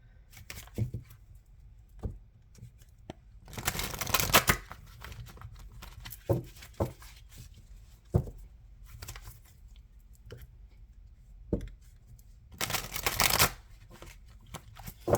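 Oracle cards being shuffled by hand, with two long riffling bursts and scattered short taps and flicks of the deck in between, close and fairly quiet, with no talking.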